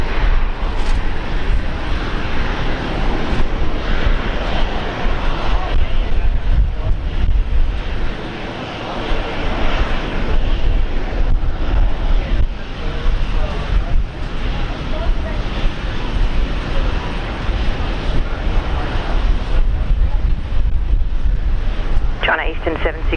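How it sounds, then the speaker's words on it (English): A Jetstar airliner taking off from runway 19 left at Brisbane Airport gives a loud continuous engine roar that holds steady throughout, with radio talk layered over it. "Jetstar 9er, runway 19 left, clear to takeoff"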